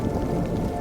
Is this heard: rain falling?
yes